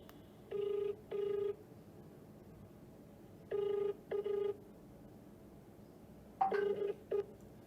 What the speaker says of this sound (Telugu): ఒక్కసారి ఫోన్ చేద్దాం.